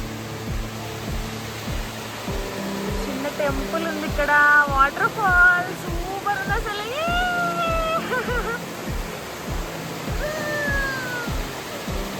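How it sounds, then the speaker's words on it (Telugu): A small waterfall beside a temple among Ooty's tea estates gives off a steady, close rushing wash of falling water, with voices talking over it throughout. "ఇక్కడ బుల్లి వాటర్ ఫాల్ ఉంది"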